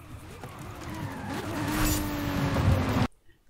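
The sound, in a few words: Aston Martin V12 Vantage car driving in video game Forza Horizon 5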